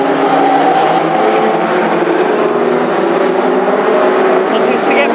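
Classic hot rod cars race at Hednesford in a dense, loud, continuous engine roar from a pack of cars, with a commentator talking over the noise.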